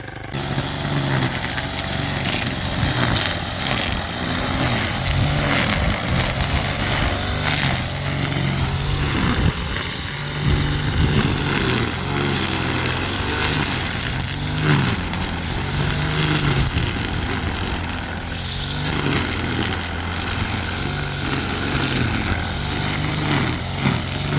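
A brush cutter cuts through grass and stones on farmland, its engine droning loudly and continuously up close, with the line whirring and crackling as it strikes debris.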